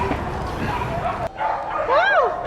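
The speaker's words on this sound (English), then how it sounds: "So it's going to be very normal for them to bark." Dogs at an adoption shelter yip and whimper, with rising and falling cries near the end, under steady background chatter from people talking.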